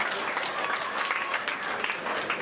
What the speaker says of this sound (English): give me a round of applause now